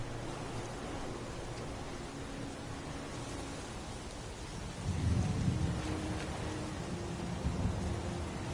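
Rain falls steadily in the Heavy Rain video game while a deep rumble of thunder swells midway and lingers, under a constant hiss of rainfall.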